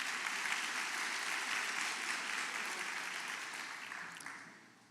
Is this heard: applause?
yes